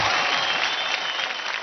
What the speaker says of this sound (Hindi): जोरदार तालियां हो जाएं मुदस्सर की मंडली से मुंबई की डांसिंग मैनिएक स्वराली के लिए